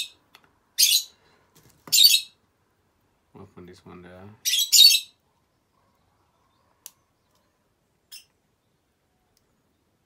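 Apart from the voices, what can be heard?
lovebirds chirping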